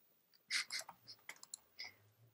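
A very loud computer keyboard during a Minecraft gaming session gives several close, sharp clusters of clacking keystrokes separated by short pauses, with no talk over them.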